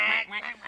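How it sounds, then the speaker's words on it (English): A duck quacking close by, several short nasal honks in quick succession, loud and clear with no talk over them. "Yeah, that sounds like a duck."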